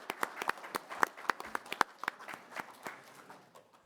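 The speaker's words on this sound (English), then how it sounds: "give him a quick round of applause there" A small audience at a veterans town hall claps in a quick, sparse round, individual claps distinct and close, tapering off after a few seconds.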